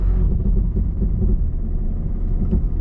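A 2026 Subaru Outback's engine drones low and strained, climbing uphill off-road as it struggles for grip, a constant close rumble with no voices.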